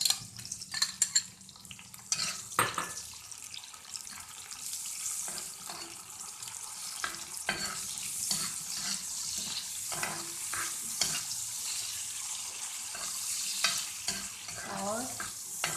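Tomatoes fry and get stirred in a hot tawa for vegetable pulao, a steady sizzle with frequent scraping stir strokes and some watery clatter, close and fairly loud throughout.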